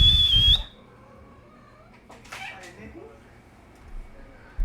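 A person whistles a short, thin rising note at the very start over a loud burst of noise, then the sound drops to quiet background with faint scattered noises.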